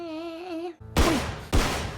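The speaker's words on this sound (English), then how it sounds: "Them gunshots are loud." Two loud gunshots from the TV drama Sherlock, episode The Great Game, ring out about half a second apart, each a sharp crack trailing into echo, following a short musical tone.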